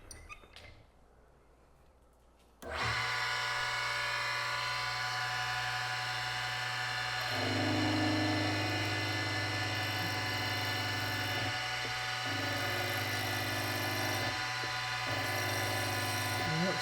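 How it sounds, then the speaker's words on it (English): A power drill fitted with a cobalt bit bores into a broken screw, a loud steady whining drone that starts suddenly after a quiet moment and holds on at near-constant pitch with slight shifts. "my drill will have something it can actually follow, and it won't be skipping all over the place"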